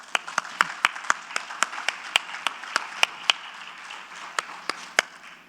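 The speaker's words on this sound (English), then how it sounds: "So, big round of applause for that." An audience at a conference in Mumbai claps in a sparse, fairly slow round of applause, sharp individual claps standing out over a softer wash of clapping.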